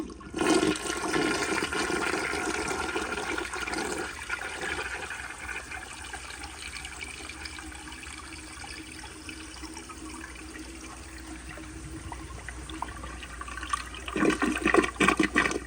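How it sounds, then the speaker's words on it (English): A 1970 American Standard Cadet bedpan-lug toilet flushes close by, a steady rushing drain of water running for many seconds, tapering to a gentler trickle before a brief louder surge of refilling water near the end. "here is a flush"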